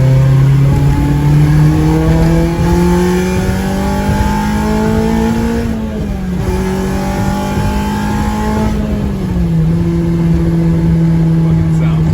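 A Honda Civic Type R engine drones steadily from inside the cabin, its pitch rising and easing with gear changes as the car drives along; sedan with K20A engine converted to manual.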